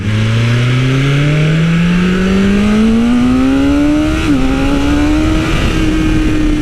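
A 2020 BMW S1000RR M motorcycle with a Stage 1 ECU flash accelerating hard, its engine note climbing steadily, dropping sharply at a quick gearshift, then climbing again, loud and close with no talking.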